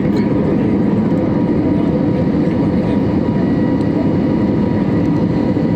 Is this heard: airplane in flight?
yes